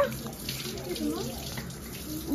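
Tap water runs steadily over someone's head as their hair is washed, a close, continuous splashing flow, with faint voices in the background.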